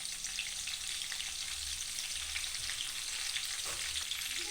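Green chillies fry in hot oil, giving a dense, steady crackling sizzle that stays close and loud from start to end with no talking.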